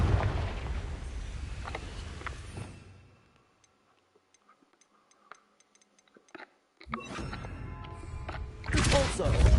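A Confringo blasting curse in Hogwarts Legacy erupts in a loud explosive burst that fades into near silence with faint ticks, then a second rumbling blast builds at the end.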